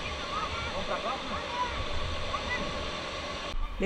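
A waterfall on a forest trail at Salto do Tigre in Matinhos, Paraná, gives off a steady broadband rush of falling water that fills the whole stretch at moderate level, with faint voices in the background.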